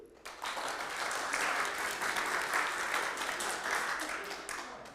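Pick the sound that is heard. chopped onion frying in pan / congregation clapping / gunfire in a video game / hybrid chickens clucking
congregation clapping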